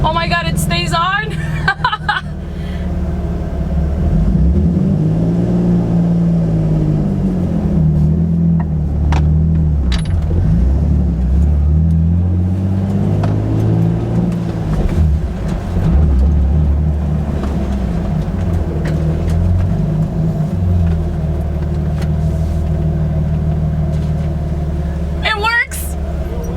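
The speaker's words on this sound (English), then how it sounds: "we're revving all the way up" A Nissan 350Z revs repeatedly after its throttle body has been cleaned; loud engine rumble rises and falls in several sweeping revs, with voices talking over it.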